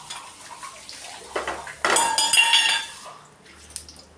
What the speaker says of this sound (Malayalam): എൻ്റെ കൊച്ചു മോനാണ് ഇവിടെ ഇരുന്ന് വികൃതികൾ കാണിച്ച് പാത്രങ്ങൾ വാരിയിടുന്നത്.